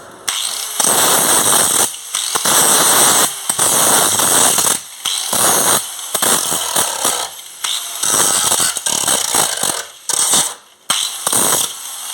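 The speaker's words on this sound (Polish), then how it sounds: "Spawam." Welding on rusted Mercedes car bodywork, a loud, harsh crackling buzz in repeated bursts of a second or two with short pauses between, close and dominant, no talking.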